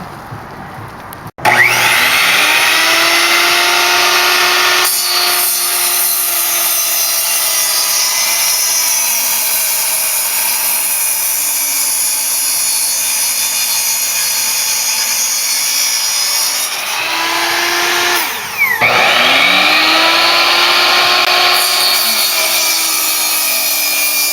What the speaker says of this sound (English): finished cutting the wood.